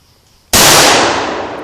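Rifle shot fired outdoors at a one-pound tannerite container and missing it: a single sharp, loud crack that bursts out after a quiet moment and rolls on in a long, bright decaying echo.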